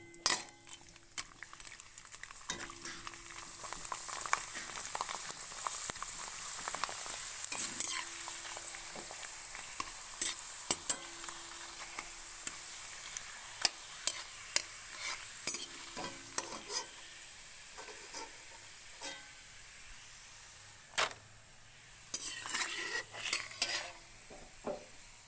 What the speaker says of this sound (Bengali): এইবার এই চিপসগুলোকে আমরা সাদা তেলে ভেজে নেব।